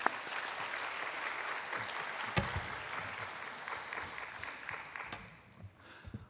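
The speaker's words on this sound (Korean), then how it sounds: "우리 목사님 나오실 때 보내주신 하나님께 감사의 박수 올려드리도록 하겠습니다" A church youth service audience gives sustained, fairly distant applause, a dense crackle of many hands with a few sharper claps standing out, tapering off near the end.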